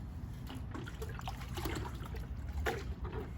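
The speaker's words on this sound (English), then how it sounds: "we're to determine how much water it takes to fill this" Water pours and splashes into a bucket beside a saltwater pool filter, a close, uneven trickling and gurgling with no talking.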